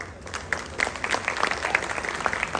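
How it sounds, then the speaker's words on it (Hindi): Audience applause at a real estate balloting event for Rudn Enclave, a steady patter of many hands clapping for a couple of seconds at moderate level, with no speech over it. "आप लोगों ने खुले दिल के साथ तालियां भी बजाएं"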